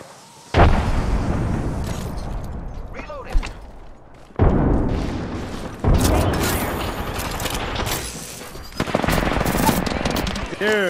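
Frag grenade in the Apex Legends battle royale game, with several sharp loud blasts and bursts of gunfire that cut in over ongoing firefight noise, with voices talking in between.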